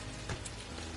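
Steady rain falling in the truck-driving video game Alaskan Road Truckers, a dense, even patter on surfaces, faint and constant with no talking.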